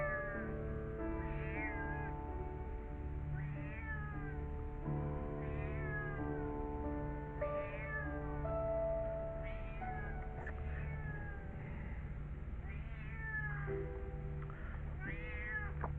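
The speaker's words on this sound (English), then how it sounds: "That's the stray cat that likes to be stroked and have my attention." A stray feral cat in a back garden meows repeatedly and insistently, a string of close, plaintive cries with rising and falling pitch spread across the stretch, over a low steady background hum.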